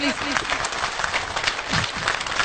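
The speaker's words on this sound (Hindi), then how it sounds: "आपकी ताली बजनी चाहिए 1 मिनट तक" An audience at a motivational talk breaks into sustained applause, a thick continuous clatter of many hands, with a voice faintly calling out over it.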